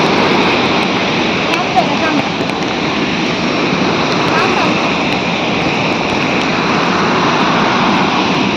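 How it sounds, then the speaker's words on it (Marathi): The Lingmala waterfall at Mahabaleshwar gives off a loud, continuous, broadband roar of falling water that holds steady and close throughout, without a break. "खूप मोठा धबधबा आहे, लिंगमाळा धबधबा म्हणून"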